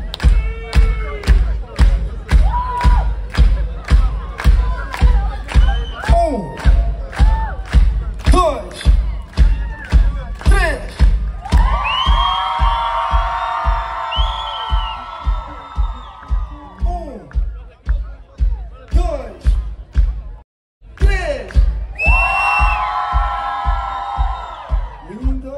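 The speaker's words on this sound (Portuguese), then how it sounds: "o maior grito do mundo com essas duas mãos em cima" A live summer-night concert audience in Ponta Delgada, Azores, roars and cheers with shouts and whoops in two big sustained swells, over a steady, thumping rhythmic beat from the stage.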